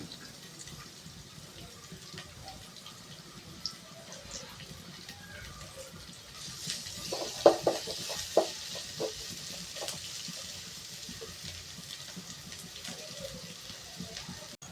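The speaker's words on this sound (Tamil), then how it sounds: "வெங்காயத்தை போடுறேன். வெங்காயம் நல்லா வணங்கட்டும்." Onions frying in a pan for pasta, a low steady sizzle with a cluster of louder stirring scrapes and clicks midway.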